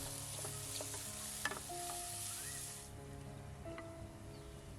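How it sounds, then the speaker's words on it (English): Mushrooms sauté over strong heat in oil and butter, giving a steady close hiss and crackle with a few light clicks of stirring. "Sauté the mushrooms on a strong heat until lightly coloured."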